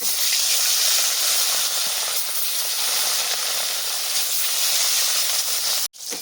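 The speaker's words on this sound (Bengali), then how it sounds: "বাদ বাকি মাছগুলো একইভাবে ভেজে নেব" Rohu fish fries in plenty of hot oil, a loud, dense, hissing sizzle up close that runs continuously, then drops out for a moment near the end before resuming.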